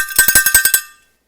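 A handheld cowbell from a charity bike ride is struck seven times in quick, even succession, close and loud, with bright metallic ringing that decays over about a second into silence.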